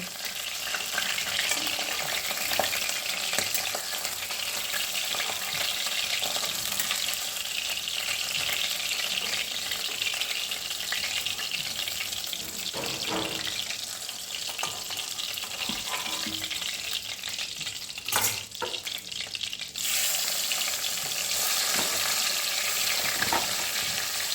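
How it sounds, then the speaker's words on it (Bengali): Steady, loud sizzling of boal fish pieces frying in hot oil, close by, with occasional scrapes and clinks of a utensil. "তুলে নিয়ে বাকি মাছগুলো ভেজে নেব"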